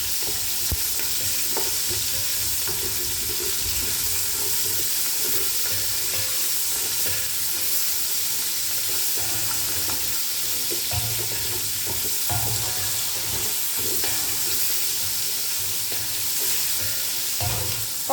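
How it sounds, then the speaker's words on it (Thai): Shiitake mushrooms with garlic stir-fried in a pan over gentle heat, giving a steady close sizzle with scraping and stirring clatter throughout, no voices. "เห็ดหอม ผัดให้เข้าหอมนะคะ อย่าใช้ไฟแรงนะคะ"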